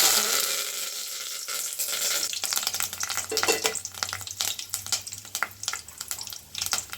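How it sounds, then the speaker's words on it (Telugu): Curry leaves crackle and sizzle as they hit hot oil in a pan for a spicy chicken fry, with irregular popping bursts and stirring over a steady fry. "ఇప్పుడు ఆయిల్ ఎక్కిందండి కొంచెం కరివేపాకు"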